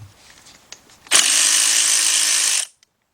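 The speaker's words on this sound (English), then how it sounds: "And I'm using my cordless ratchet." A cordless ratchet whirs loudly and steadily for about a second and a half while removing bolts from a Nissan engine during a head gasket job, with light handling clicks before and a small tap after.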